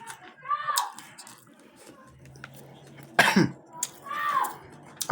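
A few harsh coughs close to the microphone, separated by pauses, with quiet background noise between them.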